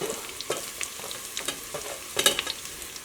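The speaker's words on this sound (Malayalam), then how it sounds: "ഇനി ഇതിലേക്ക് നമുക്ക് ഇഞ്ചി വെളുത്തുള്ളി പച്ചമുളക് കറിവേപ്പിലേക്ക് ചേർക്കാം." Ginger, garlic, green chilli and curry leaves fry in hot oil for a beef curry, giving a close, crackling sizzle with repeated stirring scrapes and sharp pops, the loudest burst coming late.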